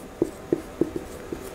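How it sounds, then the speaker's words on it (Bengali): Chalk or marker strokes on a classroom board during an English grammar lesson, five short taps and scratches spaced roughly a third of a second apart, close and clear over a quiet room with no speech. "এরপরে আমি এইখানে লিখি দেখো"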